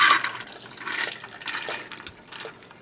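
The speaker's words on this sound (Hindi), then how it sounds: "तो ये देखिए व्यूअर्स, सबसे पहले मैं इसके अंदर ऐड करूँगी चने की दाल।" Chana dal lentils poured into a pressure cooker, a continuous grainy rushing patter that swells and eases over a few seconds, close and moderately loud, with no talking.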